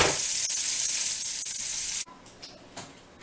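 Asparagus frying in a pan, cooked restaurant style, with a loud, steady hiss of sizzling that cuts off abruptly partway through and leaves only faint, scattered crackles.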